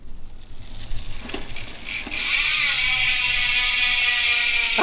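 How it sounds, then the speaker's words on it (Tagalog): Freewheeling rear hub of a 2022 Mountainpeak Everest Pro rigid mountain bike buzzes into a loud, steady high-pitched whirring ratchet after a quieter start, close and without talking. "i-check natin yung tunog nito kapag naka free wheel"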